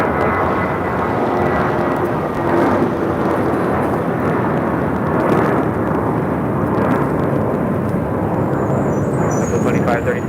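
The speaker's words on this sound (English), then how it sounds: "This is JetBlue Airways 2532 taking off to Salt Lake City on an A320" JetBlue Airbus A320 taking off at LAX gives a continuous, loud, rumbling jet roar that fills the whole stretch, with people talking over it.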